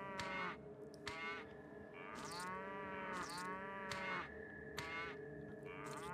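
Brahmin cattle in the video game Fallout 2 moo repeatedly, one low call after another in a steady overlapping series, fairly quiet and with no speech over them.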